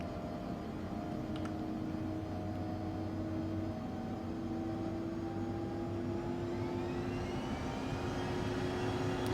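The engines of a simulated ERJ regional jet in X-Plane 12 spool up for takeoff, a steady turbine whine and hum that rises gradually in pitch. The sound is moderately quiet and continuous, with no talking.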